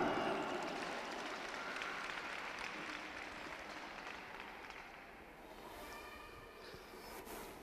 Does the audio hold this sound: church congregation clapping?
yes